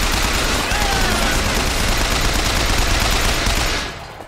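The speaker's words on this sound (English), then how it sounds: "Apparently they have turrets." Sustained automatic turret fire in Bioshock Infinite rattles loudly and continuously for about four seconds, then tapers off and cuts out near the end.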